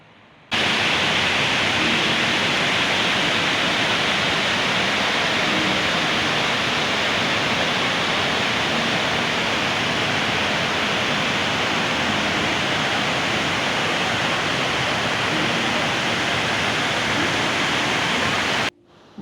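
Water roars steadily over a dam built by Japanese engineers in the Kenyan hilly countryside, a loud, dense, unbroken rush heard close by for the whole stretch with no voices.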